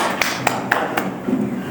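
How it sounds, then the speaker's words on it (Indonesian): In a morning microteaching class, a short round of applause comes through as four distinct, evenly spaced claps over a low room hum, moderately loud and brief. "Tepuk tangan untuk kita semua."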